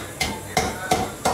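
Ginger and garlic being pounded to crush them for a Kerala-style fish curry: four sharp, evenly spaced thuds, close and fairly loud, with no talking.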